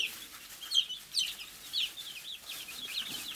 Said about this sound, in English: That's a black Australorp. Supposed to be good egg layers.